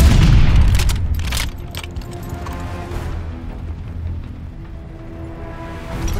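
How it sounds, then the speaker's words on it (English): A stun grenade goes off in Call of Duty: Vanguard with a loud low boom at the start, then a long rumbling ringing tail scattered with rattling, debris-like clicks that fades slowly. "Tossing stun grenade."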